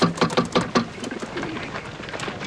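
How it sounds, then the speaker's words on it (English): Pigeons coo in soft repeated throaty bursts, a flock close by with overlapping rhythmic calls that fade into a low murmur of cooing. "most of these birds look like they can fly halfway around the block."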